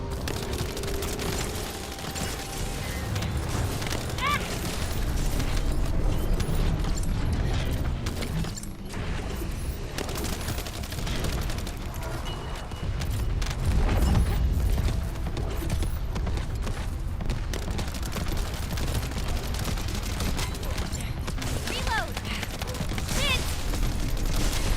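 A dense video game battle with continuous gunfire and explosions, clattering shots and heavy booms layered together at a loud, steady level throughout with no pauses.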